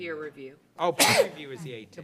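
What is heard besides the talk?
sneeze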